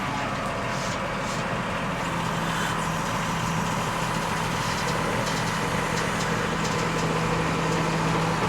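Heavy machine engine running steadily while its bucket lifts the machine up, a constant loud rumbling drone with a low hum and no clear changes in pitch, close by.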